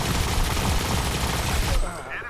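Gunfire in the mobile shooter Modern Combat 5, with a dense, loud run of rapid shots and explosive noise that cuts off sharply near the end, leaving quieter game sounds.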